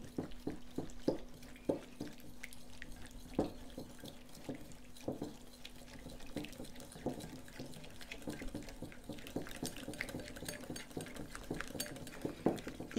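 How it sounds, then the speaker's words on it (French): Water poured into a bowl to make homemade almond milk, heard as a light, steady trickle and splash with soft clinks of utensils against the dish, close and moderately quiet throughout. "Donc je mets déjà un petit peu d'eau."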